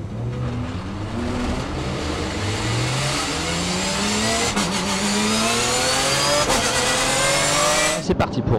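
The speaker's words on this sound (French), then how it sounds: "C'est parti pour le tour de formation de cette pièce auto GT hyper sportive." GT race cars set off on the formation lap at Magny-Cours, loud engines revving and climbing in pitch as several cars pass close by one after another, with a voice speaking over the roar.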